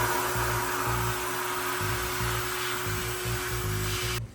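A powder coating spray gun blows powder onto Mustang SVO intercooler brackets, a loud steady blowing hiss over a constant electrical hum that shifts slightly, then cuts off abruptly at the end.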